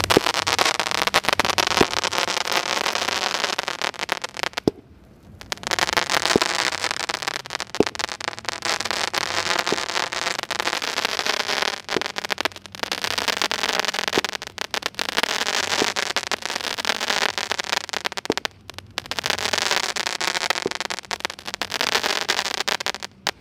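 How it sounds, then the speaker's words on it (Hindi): King Crusher 12-shot Diwali firecracker cake going off outdoors, a dense, loud stream of crackling bursts and pops lasting over twenty seconds with a brief pause partway through. "और ये चल रहा हमारा किंग फ्रेशर वाला 12 शॉट"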